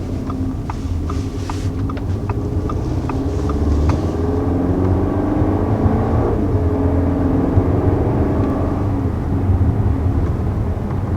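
Engine note of a 2020 Audi A4 Quattro turbo building under acceleration, a sustained rising hum with road and wind rumble, heard continuously and fairly loud from the cabin, with a few light clicks early on.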